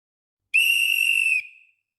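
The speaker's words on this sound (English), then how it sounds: "Blow the whistle." A single sharp, shrill whistle blast lasts under a second and then trails off, loud and close against complete silence.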